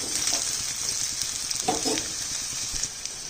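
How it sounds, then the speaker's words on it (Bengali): Taro pieces dusted in flour or cornflour frying in a pan give off a soft, continuous sizzle close by, with a few brief splashes or stirs in the middle. "কচুটা আমি এখন ভালো করে ভেজে নিব, একটু ভালো করে ভাজবো যাতে এই কচুটা সেদ্ধ হয়ে যায়।"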